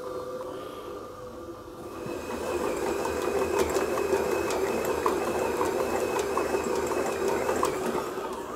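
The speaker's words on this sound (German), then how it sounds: "Auf kleiner Stufe beginnen zu kneten, nach 2-3 Minuten das Tempo erhöhen und den Teig richtig schön auskneten." A stand mixer kneads wheat roll dough, its motor humming steadily and rising to a louder, faster drone as the speed is turned up, with faint rhythmic knocks from the bowl.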